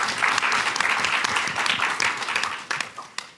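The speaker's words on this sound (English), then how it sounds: "So a round of applause for all of our judges tonight" A full evening audience at a startup pitch competition applauds warmly for the judges, a dense steady clapping that slowly thins out into a few scattered last claps.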